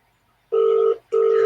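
Two long electronic telephone ringback tones on a call, each a steady buzzing burst of about half a second separated by a short gap, fairly loud and clear with no voices.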